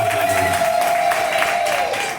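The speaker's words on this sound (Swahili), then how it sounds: "Mshangilie Bwana Yesu kwa makofi mengi." A church congregation gives a sustained round of applause during Sunday worship, a dense, even patter of many hands that stays strong and then tapers at the end, with a voice present early on.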